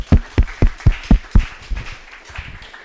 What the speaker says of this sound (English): So give a round of applause to Milda.